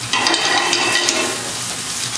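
Mushrooms sauté in a frying pan alongside chicken fried steak, a loud, close, steady sizzle with a faint stirring texture throughout.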